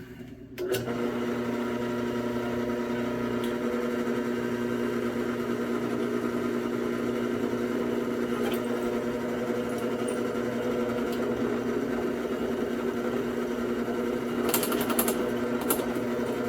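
A Craftsman drill bit, lubricated with oil, bores into a clamped part during a supercharged chainsaw build. The motor gives a steady, close whine for the whole stretch, with a few faint clicks near the end.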